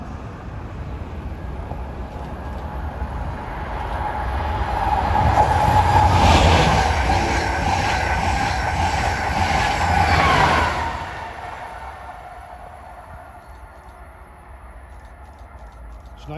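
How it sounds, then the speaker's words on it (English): An Amtrak Acela high-speed train runs past on a New Jersey line, its roar building from a distant rumble to a loud, steady rush with metallic wheel noise, then dropping away quickly to quiet ambience. "At 322 is Amtrak Acela 2253 to DC."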